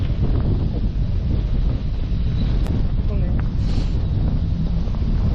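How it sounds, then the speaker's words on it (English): Strong wind along a seaside promenade buffets the microphone with a constant low rumble and roar, and a voice briefly exclaims over it. "it's a bit breezy along here"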